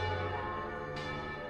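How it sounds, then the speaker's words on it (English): Church bells across London ring together in a dense, sustained wash of overlapping metallic tones that holds steady throughout, with no voices. "the Duke is awakened in his tower cell by the ringing of all the bells in London"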